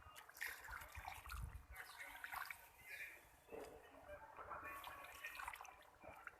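Water being poured into fish korma gravy in a cooking pot, a steady splashing pour that runs for several seconds at moderate loudness, with no voices.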